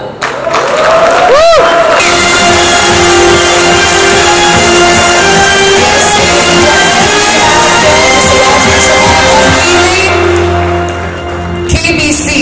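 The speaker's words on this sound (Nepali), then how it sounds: "एकचोटि फेरि जोरदार ताली" A studio audience at a Nepali television channel launch event bursts into loud applause and cheering with scattered shouts. The sustained roar swells for several seconds and then fades toward the end.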